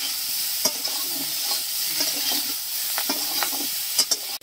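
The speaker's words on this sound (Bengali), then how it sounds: "দিয়ে দেব ফুলকপি, ভেজে নেব।" Cauliflower frying with turmeric and salt in a pan gives a constant loud sizzle, broken by scraping, clinking stirs of a utensil against the pan.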